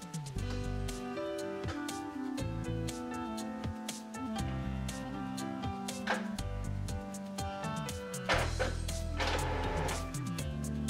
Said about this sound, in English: The printer initialization is still going on